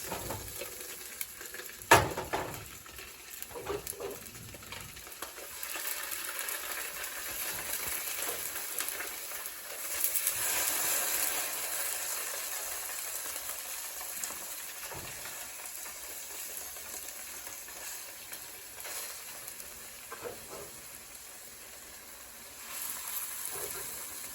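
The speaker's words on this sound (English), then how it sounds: "sauteing our salmon, and we're going to saute it until we brown it, till it browns." Salmon sautéing in a pan until browned gives a faint, steady hiss with a few scattered clicks and scrapes, and a voice talks over it at times.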